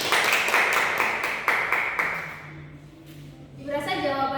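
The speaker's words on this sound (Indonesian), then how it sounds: "Kita beri tepuk tangan dulu untuk kelompok 3." Classroom students applaud a student group, their quick claps mixed with chatter for about two seconds before fading, and then a voice speaks.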